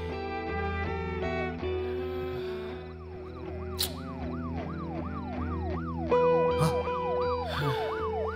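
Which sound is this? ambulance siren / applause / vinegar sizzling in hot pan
ambulance siren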